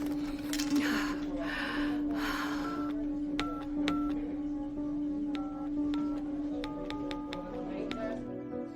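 A phone number is dialed as a quick series of sharp keypad taps over a steady background hum, with a muffled voice heard first.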